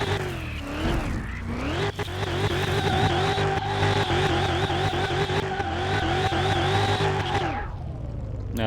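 A modded car races in Car Mechanic Simulator 2021, its engine revving hard through rising and falling gear shifts with tire squeal, loud and close, then quickly fading out at the end.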